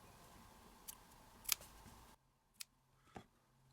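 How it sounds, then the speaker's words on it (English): Scissors make a few small, sharp snips into fabric, about four to five quiet, separate cuts spaced irregularly over a faint background hush. "we're going to make some little snips right from the bottom"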